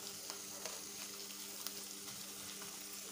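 Cumin seeds and a dry red chilli fry in oil in a pan of sago, giving a faint, steady sizzle with small pops and crackles at close range.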